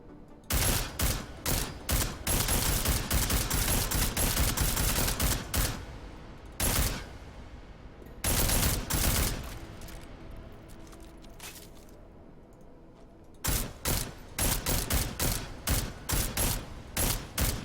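Gunfire in Deus Ex: Mankind Divided, with loud repeated bursts of shots across most of the stretch, a quieter lull with scattered faint pops in the middle, then another rapid run of close, sharp rounds.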